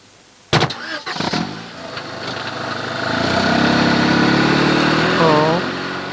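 A car door slams shut, then the engine starts and revs up into a steady drone as the vehicle pulls away, with brief voices near the start.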